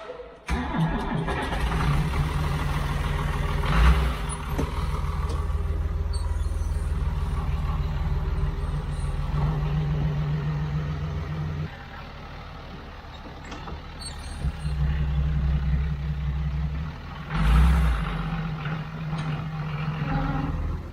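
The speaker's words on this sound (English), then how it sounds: "Here comes the lorry, coming around the road." A grain lorry approaches on a farm road, its diesel engine a steady low drone that swells and dips as it comes closer, with a brief lull and a hiss near the end, at moderate distance.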